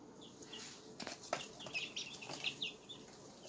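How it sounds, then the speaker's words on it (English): Young chicks kept in a small animal cage cheep in high, scattered peeps, with soft wing flutters and scuffling in between, quiet and close, no voices. "So these are my youngest chicks."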